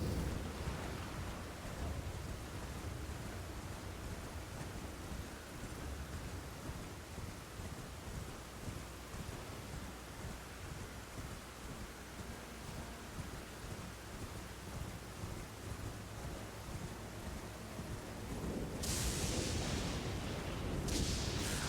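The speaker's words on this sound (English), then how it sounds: "Why is it always raining up here?" Steady heavy rain in a video game hisses throughout, with low rumbling like distant thunder and a brighter burst of downpour near the end.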